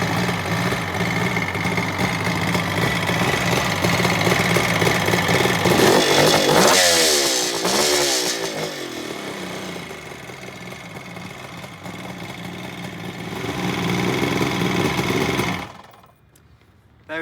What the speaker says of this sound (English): very loud with the Higgspeed silencers